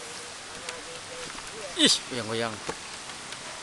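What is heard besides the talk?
rain falling in a village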